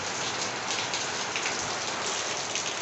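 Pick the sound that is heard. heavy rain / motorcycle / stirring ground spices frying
heavy rain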